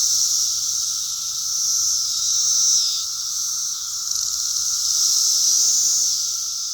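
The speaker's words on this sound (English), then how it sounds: "It's crazy what these cicadas are doing." Cicadas swarming a backyard tree, a loud continuous buzzing drone that swells and eases in waves, close and dense, with no voices over it.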